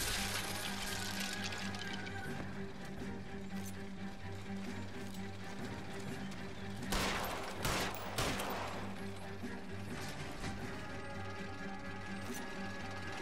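Gunfire aimed at a driver during an L.A. Noire car chase: a quick burst of shots near the middle, loud over steady mechanical engine rumble and a music bed.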